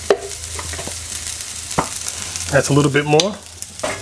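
Garlic frying in a pan on a home stove, a steady close sizzle with occasional stirring scrapes and clicks, while a person briefly talks over it.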